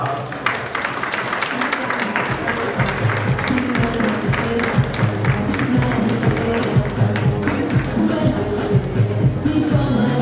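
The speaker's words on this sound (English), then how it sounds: "Let's give her a great round of applause." An audience at an evening International Women's Day event gives a full round of applause, a steady wash of many hands clapping that holds strong throughout, with some crowd noise mixed in.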